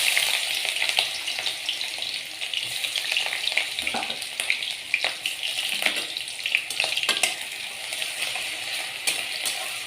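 Chopped onions sizzle in hot mustard oil in a wok, a close, bright, continuous hiss with occasional metallic clinks and taps from a utensil against the pan. No one speaks.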